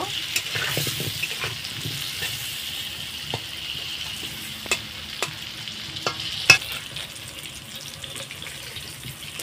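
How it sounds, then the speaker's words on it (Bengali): Potatoes frying in a pan make a soft, continuous sizzle with scattered clinks and stirring knocks, plus a few sharper taps, and no voices. "আলুগুলো আমি সুন্দর করে ভেজে নেব।"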